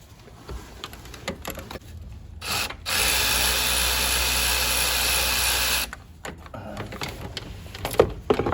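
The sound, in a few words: removing turbocharger pipe with 7mm socket on Ford EcoBoost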